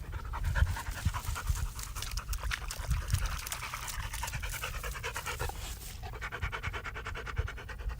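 A dog pants fast and hard, close and continuous, on a riverbank while fishing, with faint trickling water behind.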